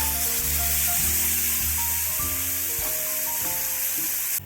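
Spice paste hitting hot oil already tempered with asafoetida, cinnamon and chilli, for a fig kofta curry: a loud, steady sizzle and hiss that lasts throughout, with faint tonal notes underneath and no talking.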